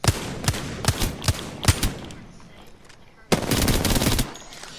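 Sharp gunshots crack out in quick, uneven bursts in the video game Apex Legends, then a dense, sustained volley of rapid automatic fire follows after a short lull.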